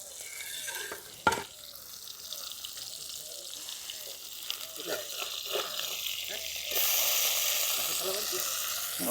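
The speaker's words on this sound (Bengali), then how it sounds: "দেখুন মাছগুলো লাল লাল করে ভেজে নিয়েছি" Small river fish frying in oil sizzle steadily up close, broken by clattering and stirring as the pieces are moved, and the hiss grows louder near the end.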